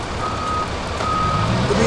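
A forklift's reversing alarm sounds steady repeated beeps over a low engine rumble at a car crash scene, continuous and moderately loud throughout.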